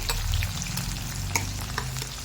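Close sizzling of chopped onions, chana dal, urad dal and mustard seeds frying in hot oil, with crackles and a few spatula scrapes as they are stirred.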